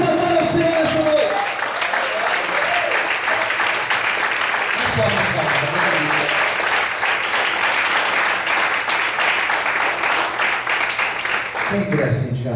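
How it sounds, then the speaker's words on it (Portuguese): A church congregation applauds during an evening service. Dense, loud clapping continues for over ten seconds, with a brief voice and low tones near the start and again at the very end. "Vamos poder aplaudir e exaltar ao Senhor essa noite."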